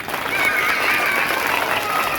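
A group of children at a drama workshop clap loudly together, a dense continuous burst of applause with some crowd noise mixed in.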